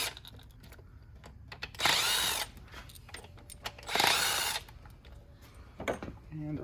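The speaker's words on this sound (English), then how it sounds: "we can go ahead and just pull the screws out of the valve body" Power driver whirring in two distinct bursts as screws come out of a 48RE transmission valve body, with someone talking in between the bursts.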